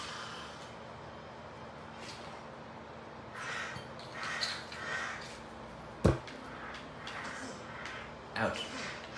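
Crows caw in the video game Resident Evil Village, several harsh calls scattered over steady background noise, with a sharp impact near the middle and a louder burst toward the end; a person talks at times.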